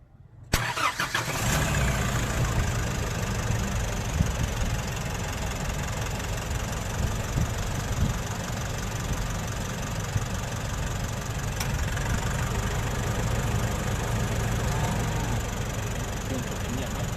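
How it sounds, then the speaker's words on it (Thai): A van engine cranks and catches, then settles into a steady, rumbling idle that continues close by without change. "ฟังเสียงเครื่องกันครับ"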